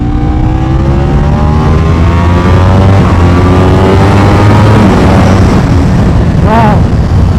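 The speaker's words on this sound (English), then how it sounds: "That's the Ducati quick shifter demonstration right there." A 2025 Ducati Panigale V4 superbike accelerates hard through quick-shifter gear changes, its loud, close engine howl climbing in pitch and cutting briefly between shifts, with a sharper rising whine near the end.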